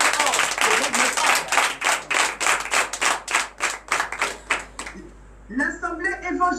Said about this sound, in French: Donc je vous demande d'applaudir très fort le groupe MIFOV.